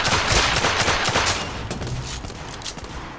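Hip-fired gunfire in the video game The Order 1886, a dense, loud, continuous volley of rapid shots that fills the whole moment without letup, with no talking over it.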